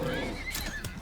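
A horse neighs in the survival game Icarus, a bright, wavering whinny with faint hoof clatter mixed in, close and fairly loud.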